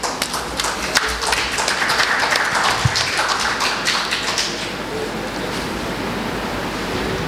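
Dense, sustained applause from an audience at a psychiatric conference, a steady wash of many hands clapping that continues at an even level throughout.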